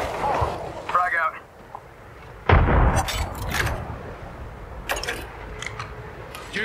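In the video game Fuse, a frag grenade blast lands as a sudden loud boom, surrounded by scattered gunfire shots and a player's voice talking over the action.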